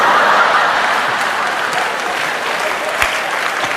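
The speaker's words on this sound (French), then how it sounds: "vous avez entendu les applaudissements des élus?" Applause from elected officials in a legislative chamber, a dense steady roar of many hands clapping that holds loud throughout and eases slightly toward the end, with a few faint chuckles.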